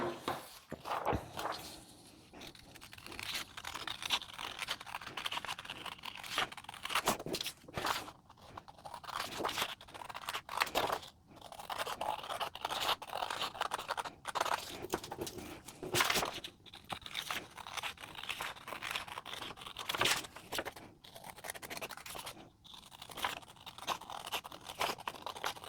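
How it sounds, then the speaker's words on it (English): Paper pattern pieces for a hooded towel being cut out and taped together, with close crinkling, rustling and scissor crunches, interspersed with sharp tape-tearing sounds, fairly quiet. "Cut these pieces out, use the dotted lines to tape them together."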